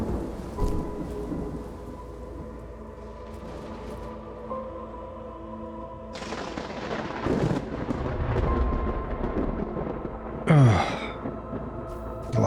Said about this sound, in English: The thunderstorm's back